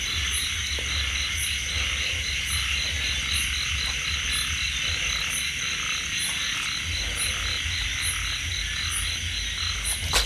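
Frogs croaking at night in a field, a steady chorus of repeated calls mixed with high continuous insect trilling, close and constant throughout.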